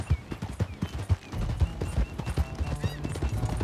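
Quick, steady clip-clop of horse hooves as a rider travels on horseback in Red Dead Redemption 2, with a few dull thuds and soft ambient noise around the galloping rhythm.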